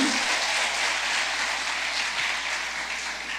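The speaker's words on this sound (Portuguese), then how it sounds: "Uma salva de palmas para Jesus" A church congregation claps in a sustained, dense round of applause, loud and even throughout, with no talk over it.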